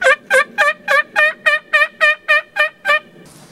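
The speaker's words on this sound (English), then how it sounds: "crappy gobble that I'm doing, that he's answering back to" A wild turkey gobbles in reply to a call, a loud, near, rapid series of about a dozen rattling pulses in even rhythm, ending abruptly with faint background noise afterward.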